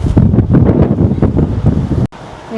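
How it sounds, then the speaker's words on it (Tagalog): Strong wind in cold, drizzly Alberta buffets the microphone in loud, gusty rumbles that cut off abruptly near the end. "Mahangin pati."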